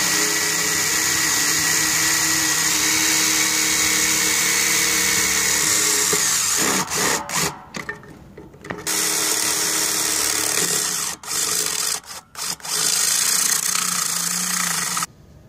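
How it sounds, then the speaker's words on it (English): A power drill boring holes for a dish mount with an SXT mount, a loud, continuous high whine that stops and restarts in short bursts, close up with no talk. "Okay, now we got our holes drilled."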